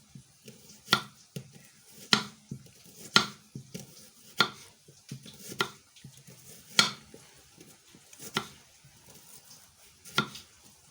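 A knife chops onion into spring-like shapes on a board, giving quiet, sharp taps at an uneven pace about once a second, with soft handling noises between cuts.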